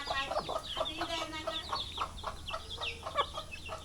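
Chickens cluck around a rural village home, a run of short, repeated calls that stay steady and fairly close, with no talking.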